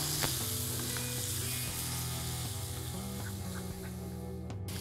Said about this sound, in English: So let's add in the boiled and the mashed sweet potato into this. And I'm going to mix this up really well.